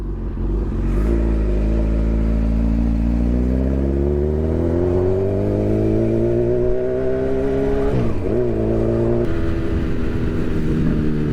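A motorcycle nicknamed Vader revving up, its engine climbing steadily in pitch through a long pull, dipping briefly and rising again, loud and close with no talk.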